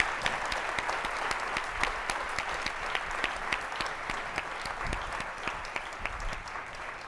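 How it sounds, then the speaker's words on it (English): Audience applause at a patient advocacy summit, a steady wash of many hands clapping with no break, moderately loud and sustained throughout. "Please join me in giving them a round of applause."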